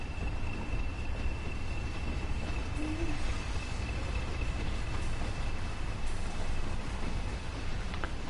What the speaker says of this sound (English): Wowzers, that's a long train.